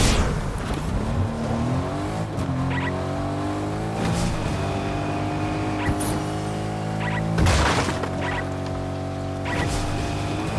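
A car drives in the Fortnite video game, its engine droning steadily with shifting pitch, tire squeals and a few sharp impacts over about ten seconds, loud and up close.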